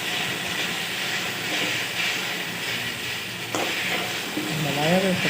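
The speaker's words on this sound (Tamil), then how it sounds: "அந்த வளர்ச்சி தன்மை போகிற வரைக்கும் நம்ம வதக்கிட்டு இருக்கணும்" Okra sizzles and hisses steadily as it is sautéed and stirred in a hot pan, a close, continuous frying crackle with a brief clink of a utensil and a voice speaking softly near the end.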